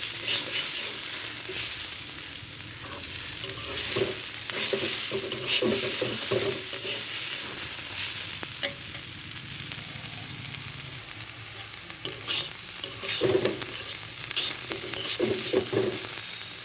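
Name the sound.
potatoes with onion frying and being stirred in pan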